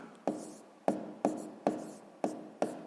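Pen or chalk writing out a sixth-grade maths solution with brackets, heard as six sharp strokes at a fairly steady rhythm, each a quick tap followed by a short scratch, close and alone.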